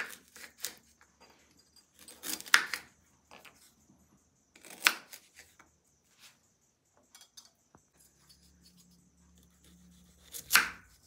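A knife cuts radish into long pieces for quick pickle: clusters of sharp board-knocking chops come in short bursts, separated by quiet pauses, close and fairly loud, with no talking.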